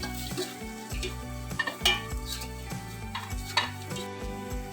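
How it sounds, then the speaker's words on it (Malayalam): Onions with turmeric, chili powder and garam masala frying in a pan, with steady sizzling under music and repeated scraping of a spoon stirring against the pan. "അതിലേക്ക് നമുക്ക് മഞ്ഞൾപ്പൊടി ഏകദേശം ഒരു ഒന്നര സ്പൂൺ മുളക് പൊടി ഗരം മസാല ഇത്ര ഇട്ടൊന്ന് വറുത്തെടുക്കാം"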